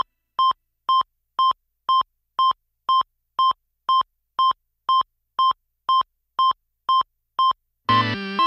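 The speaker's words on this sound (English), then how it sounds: "To double check, let's listen to that click sound again." A hi-fi speaker balance test tone: fifteen evenly spaced short electronic beeps or clicks, about two per second, loud and clean, ending in a brief burst of different noise.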